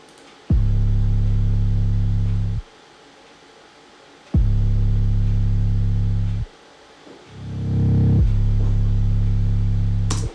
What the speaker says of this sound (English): So all in all, 808 sounds like this.